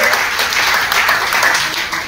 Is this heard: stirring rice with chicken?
no